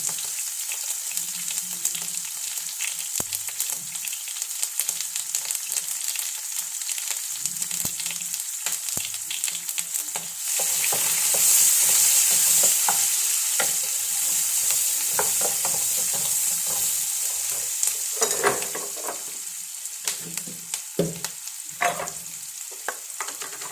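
Mustard seeds splutter and onions fry in a pan, giving a steady close sizzle with scattered crackling pops that grows louder and denser midway, alongside occasional stirring.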